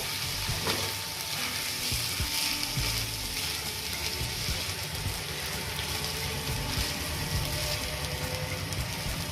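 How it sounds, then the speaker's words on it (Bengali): Rice for Bengali pea pulao frying in a pan, a steady dense sizzle with scraping stirs and clinks of the spatula running throughout, close and fairly loud. "চালগুলো খুব ভালোভাবে নেড়ে চেড়ে ভেজে নিতে হবে"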